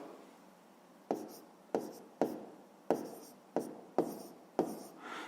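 A pen writes on paper during a math exercise in a series of about seven crisp, scratchy strokes that start sharply and trail off. It is close and quiet, with no talking.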